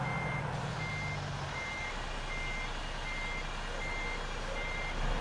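Steady, evenly spaced reversing beeps from a Volvo VNL truck in American Truck Simulator, driving in Utah, repeating over a constant low engine drone with no talk.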